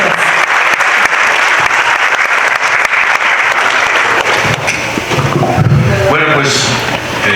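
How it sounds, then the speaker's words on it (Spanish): Audience applause at a lecture greets a guest speaker, a dense, sustained clapping that fills most of the stretch before thinning out, with a voice beginning to talk near the end. "Un fuerte aplauso, por favor, para nuestro invitado de gala."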